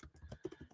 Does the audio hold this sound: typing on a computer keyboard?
yes